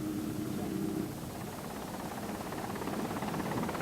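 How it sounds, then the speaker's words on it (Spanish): A helicopter engine drones steadily, a broad rumbling whir with a low tone at the start that fades into the noise. "El vigía ha oído el ruido que hace el motor del helicóptero"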